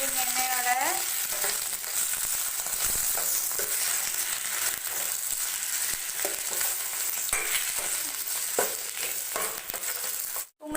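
Sliced potatoes fry in hot oil in a kadai for a potato poriyal, giving a steady, close sizzle with soft stirring scrapes throughout, under quiet background music and with no voices.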